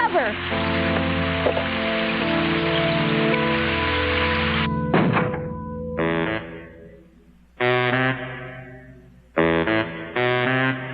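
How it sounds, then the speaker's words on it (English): Cartoon rain falls as a steady, dense hiss for about five seconds before voices begin talking, and the patter continues faintly beneath and between their lines. "It's raining!"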